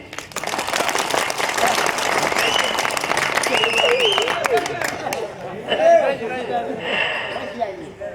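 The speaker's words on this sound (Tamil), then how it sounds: "ப்ளீஸ் எனக்காக கொஞ்சம் கைதட்டுங்களேன்" Sustained applause from a crowd at a Tamil village drama performance, dense and loud, with chatter and light laughter mixed in and speech rising over the clapping as it fades.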